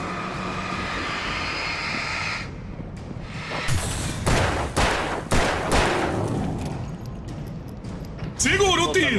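Bursts of rapid gunfire in Alan Wake Remastered on PS5 ring out in several separate volleys over a droning background, loud and sharp, with a final burst at the end.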